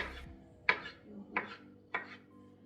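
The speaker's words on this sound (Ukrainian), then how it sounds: "Тепер наріжу ще авокадо, просто шматочками наріжу." A knife chops avocado into pieces on a board with three sharp, evenly spaced cuts, close and crisp, with no talking.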